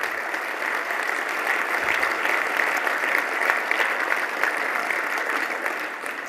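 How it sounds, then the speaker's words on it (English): An audience at an IT and AV industry event gives a warm, sustained round of applause, continuous dense clapping filling the room at fairly strong, even volume. "if the rest of you would join me in a round of applause"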